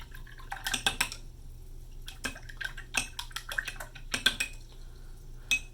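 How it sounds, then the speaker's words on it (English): A paintbrush used with permanent ink is rinsed in a water container, giving a series of light clinks and taps against the jar with faint splashes, irregular and close, at low volume with no talking. "I'm rinsing my brush."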